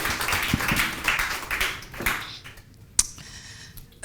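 A round of applause at a talk on Black mothers and childbirth: a short burst of clapping for about two seconds that fades out, followed by a single sharp tap.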